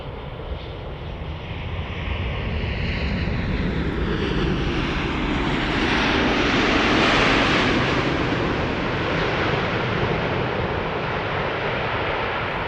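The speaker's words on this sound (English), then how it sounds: "I'm now hearing it spool up." KLM airliner, the Orange Pride on flight 743, spooling its engines up for takeoff on the runway centre at Schiphol, a broad steady roar swelling to a peak midway and holding strong, with some wind rumble.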